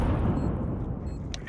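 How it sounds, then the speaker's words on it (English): A grenade detonates in Counter Strike 2 with a loud, close, rumbling boom that decays over a second and a half. "I'm throwing a grenade. Grenade out."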